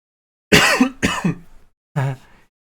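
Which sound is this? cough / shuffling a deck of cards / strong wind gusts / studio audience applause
cough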